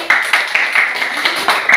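A school class clapping hands together in a classroom, a series of sharp, fairly close claps in an uneven rhythm, roughly eight bursts over a couple of seconds.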